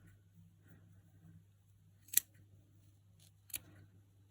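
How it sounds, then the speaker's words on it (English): Sharp scissors snipping through the yarn loops of a pom-pom for an egg cosy, two crisp quiet cuts about a second and a half apart over a low steady hum, close by and otherwise quiet. "And we're going to snip through this side."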